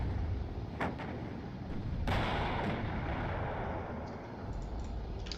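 Rapid missile launches in the real-time strategy game WARNO, with sharp whooshing bursts over a dense rumble of battlefield noise and a low background drone, fairly loud and without speech.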